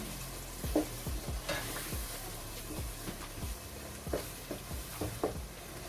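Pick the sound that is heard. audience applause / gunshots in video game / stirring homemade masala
stirring homemade masala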